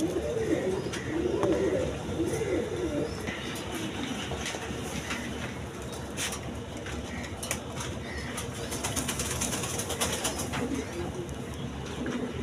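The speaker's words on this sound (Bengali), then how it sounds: "এখানে এক পেয়ার বোম্বাই কবুতর আছে দেখেন" Bombay pigeons coo softly in low, rolling calls, with a steady background rumble and scattered faint noises throughout.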